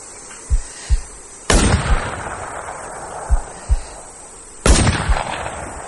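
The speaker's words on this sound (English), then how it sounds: "someone is shooting an AK" AK rifle gunfire rings out in the survival video game The War Z, with several sharp, fairly close shots in separated pairs and two louder blasts that leave a lingering echo.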